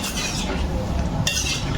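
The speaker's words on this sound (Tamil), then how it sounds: "இப்போ நல்லா மிக்ஸ் பண்ணிடலாம்." Mushroom and cauliflower kurma masala stirred in a pan with a spoon, close scraping and soft clinks over a faint wet simmer, short and continuous with no speech.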